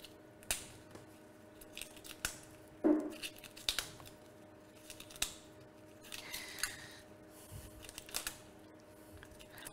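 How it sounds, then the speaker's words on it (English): Scissors snip leaves during preparation of Sardinian culurgiones, with a series of short, irregular close cuts and light rustling, no talking. "You cut off 10 or 15 leaves"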